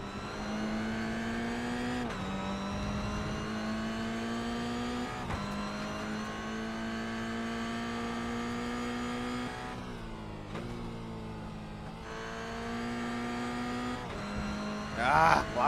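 GR86 race car engine in a sim racing game at Okayama, droning steadily at high revs with repeated dips and rises as the driver brakes and throttles between corners, continuous and close.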